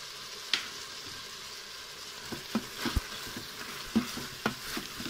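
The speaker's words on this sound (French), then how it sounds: "Et on continue de mélanger encore un peu." Beef and a stock cube being stirred in a Cookeo multicooker, a soft background sizzle punctuated by repeated clicks and knocks of a spoon against the pot at an irregular pace.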